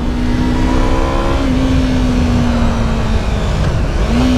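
A 2015 Yamaha R3 300cc motorcycle engine pulls hard with a loud, continuous whine that dips briefly at a gear change, then rises again as it keeps accelerating.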